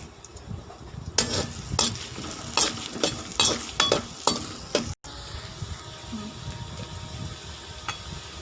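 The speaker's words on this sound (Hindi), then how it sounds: "कढ़ाई में घी डालना थोड़ा सा, उसके अंदर प्याज डाल देने" Onion fries in a little ghee in a kadai for chicken macaroni, a steady close sizzle punctuated by a run of sharp rhythmic spatula scrapes and stirs, then continuing hiss with low rumbling underneath.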